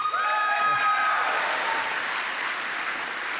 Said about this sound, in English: Have applause for everyone,